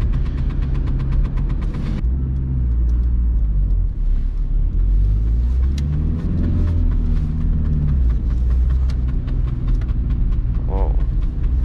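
A VW Golf 3 1.9 TDI 90 HP diesel heard from inside on a rainy drive, its low engine drone steady and close, with a brief shift in pitch partway through and light clicks over the rumble.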